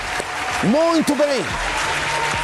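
A big round of clapping for the authorities in an Angolan television talk-show studio, sustained and even throughout, while a voice speaks a couple of words over it midway.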